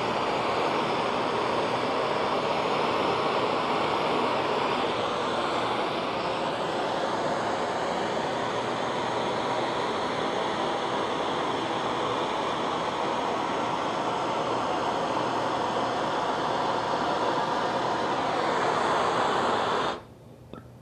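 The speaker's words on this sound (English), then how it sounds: "I'm going to use some map gas and actually flame the edge to bring out a polish." MAP gas torch flame-polishing the edge of an acrylic sheet, a loud, steady roaring hiss held close for about twenty seconds before cutting off abruptly, no voices.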